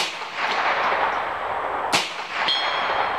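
.22lr bullets striking a 1/4 inch mild steel plate, two sharp metallic pings with ringing decay about half a second apart, following a distant gunshot report over outdoor background noise.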